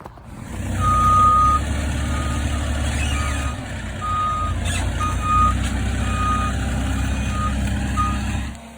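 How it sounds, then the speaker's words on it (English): Lumber delivery trucks arrive at a house building site in the dark, their engines rumbling close by while a reversing beeper sounds in a steady, repeated pattern. "And I think the trucks are here."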